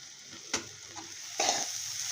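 Cauliflower and egg bhurji with coriander stir-fried in a pan, a steady sizzle with two brief louder scrapes of the spatula, close and alone.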